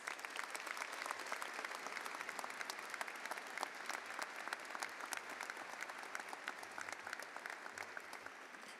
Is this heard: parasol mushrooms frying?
no